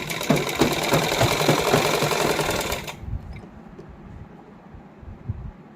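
A sewing machine stitches an inner lining onto a heavily hand-embellished suit, running in a fast, steady close-up whir for about three seconds before stopping, leaving faint handling noise.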